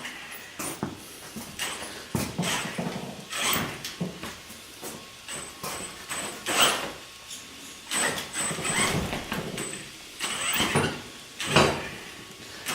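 An upgraded Axial SMT10 RC monster truck drives across a basement floor, its electric motor whining in short repeated bursts with scuffs and rattles between them. The sound is close by, with no talking.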